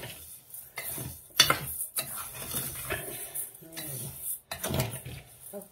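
Sticky rice dry-roasting in a pan, with scattered clinks and scraping stirs against the metal, irregular and fairly close, with brief stretches of faint talk in between.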